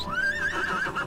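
A horse neighs in the online role-playing game ArcheAge: a single clear, mid-loud whinny that rises and then wavers. It stands alone across about a second, with no talk over it.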